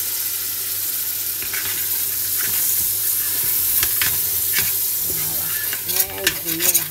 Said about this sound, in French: je vais rajouter mes tomates dans les oignons grillés. Je vais tourner, laisser cuire un peu.